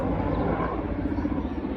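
A helicopter flying over a village gives a steady, low, droning rumble with a dull, muffled edge that stays even throughout.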